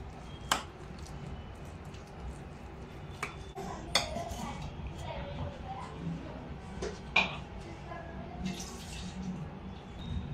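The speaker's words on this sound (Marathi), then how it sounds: "याच्यामध्ये गोळे नाही झाले पाहिजे असे फिरवणार आहे।" A spoon stirs corn dosa batter in a bowl, so that no lumps form, with soft scraping and a few sharp clinks against the bowl's rim, close and fairly quiet.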